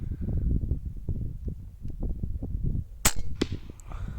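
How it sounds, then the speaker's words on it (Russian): A Jaeger 6.35 PCP air rifle fires a sharp, loud crack, followed by a second smaller snap a moment later, after a stretch of low murmuring background noise. "Буду стрелять, пока не будет понижения"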